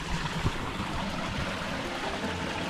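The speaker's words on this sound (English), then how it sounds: "I don't know if you can hear me over this little mini waterfall" A steady, broadband rush of splashing water from a small jungle waterfall fills the scene, close and continuous, pouring without pause.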